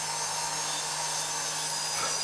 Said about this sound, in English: We're almost done here with the final finish sanding